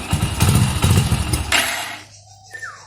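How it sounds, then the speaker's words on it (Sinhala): A motorcycle engine starting up and running after its spark plug was cleaned and refitted, loud and close for about two seconds before cutting off to quiet background. "දැන් අපි ඒක හයි කරලා අපේ බයිසිකලේ අපි ස්ටාර්ට් කරලා බලමු"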